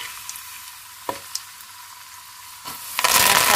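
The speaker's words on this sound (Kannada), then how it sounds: "ಸಾಸಿವೆ ಚಟಪಟ ಅಂದಿದೆ. ಈಗ ನಾನು ಕಡಲೆಬೇಳೆ ಹಾಕಿದ್ದೀನಿ, ಜೊತೆಗೆ ಉದ್ದಿನಬೇಳೆ ಕೂಡ ಹಾಕಿದ್ದೀನಿ." Mustard seeds spluttering with chana dal and urad dal frying in hot oil for tomato gojju, a steady close sizzle broken by a few sharp pops and a louder burst of crackling at the end.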